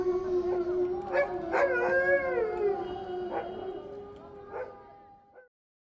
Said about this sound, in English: And here's a dog joining in on some evening prayers.